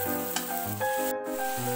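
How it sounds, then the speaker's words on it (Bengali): Soybeans tipped into hot frying masala and stirred, giving a steady sizzle with scraping stirring sounds and a brief sharp crackle, close and moderately quiet with no talking. "এরপর এটিতে আমি সয়াবিনগুলো ঢেলে দেব। এরপর এটিকে ভালোভাবে মিক্স করে নেব।"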